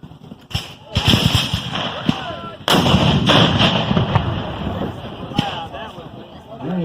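Cannon fire at a Civil War battle re-enactment, several heavy booms and sharp reports echoing across an open field, loud and close, with a voice talking between the blasts.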